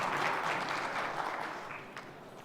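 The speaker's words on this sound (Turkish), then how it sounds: "Ben takdimi yapmak üzere efendim Hubuder Yönetim Kurulu üyemiz Sayın Erkan Genç'i davet ediyorum alkışlarınızla" An audience at a grain conference claps steadily as a board member is invited to the stage, a dense wash of applause that stays fairly even before slowly tapering off.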